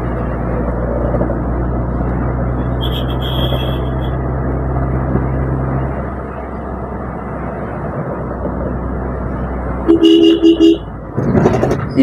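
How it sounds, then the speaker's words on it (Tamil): A car horn honks repeatedly on a forest road through a tiger reserve, with a long steady toot early on and shorter blasts later, close and loud over the vehicle's engine rumble. "நான் முழுக்க ஹாரன் அடிச்சுட்டே தான் ஓட்ட வேண்டியிருக்கு"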